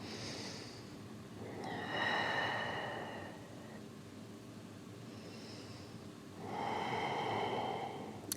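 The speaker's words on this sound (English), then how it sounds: "So 3 deep breaths here." Deep, slow breathing during a yoga session, with two long, airy exhales spaced several seconds apart. Each one is close and clearly audible over a quiet room hiss.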